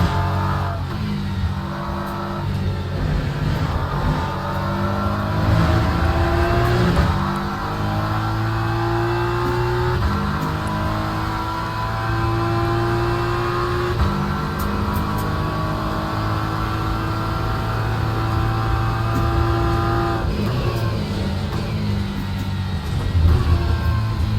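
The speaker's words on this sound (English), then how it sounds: "Those Aston Martins are fast" Aston Martin race cars in a video game, several engines droning and revving together with rising and falling tones, loud and continuous with occasional shifts, no talking.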